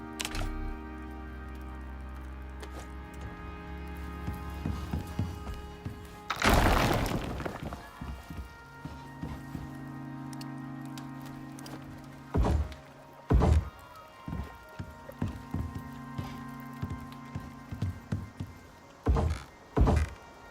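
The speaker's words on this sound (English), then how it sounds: "I can destroy these walls." Walls being smashed apart in Icarus, a few sharp crashing thuds and breaking impacts separated by pauses, with a low humming background and occasional quieter knocks.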